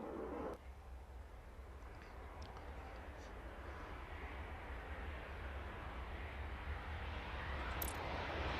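Steady roar of jet engines on an airport apron in the Airport Madness video game, a continuous broadband rumble lasting throughout with no talk.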